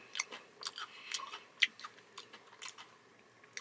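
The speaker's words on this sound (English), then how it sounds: "let's go ahead and see how this tastes" Crunchy chewing of frosted reindeer-shaped Mother's Reindeer Games cookies, close and quiet, with irregular bites and crunches and no talking.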